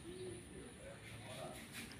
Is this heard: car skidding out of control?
no